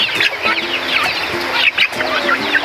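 Several hens cluck and chatter nearby in quick, overlapping bursts, fairly loud and continuous throughout.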